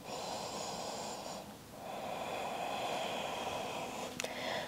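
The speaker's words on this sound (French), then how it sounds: "on va rester ici pour quelques respirations." Slow, soft breathing during a yoga pose: a long airy exhale, a pause, then another drawn-out breath, faint and close with no talking.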